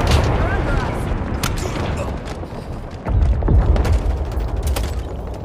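Orbital ordnance drop explosions in Halo Infinite, a dense rumble of booms and blasts layered over continuous game noise, loud and close, with a heavier burst partway through.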